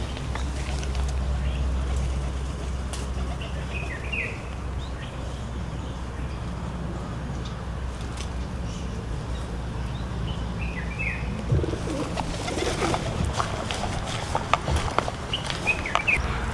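Caged birds at Mukuvisi Woodlands park in Harare give scattered short chirps and calls, fairly distant, over a constant outdoor background hum with some rustling and movement toward the end.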